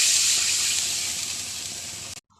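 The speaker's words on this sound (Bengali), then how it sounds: "এবার একটু জল দিব।" Water poured into a hot cooking pan during a Bengali fish and eggplant curry, a loud continuous rushing sizzle that stays steady for about two seconds and then cuts off abruptly.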